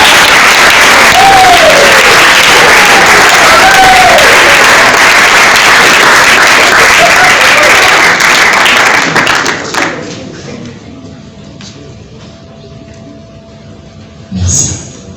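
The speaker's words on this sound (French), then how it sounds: "je vous demande d'applaudir frénétiquement pour M." An awards ceremony crowd claps loudly for a Congolese cinema honoree, dense and sustained for about nine seconds, then drops off to a quiet room with a short burst of noise near the end.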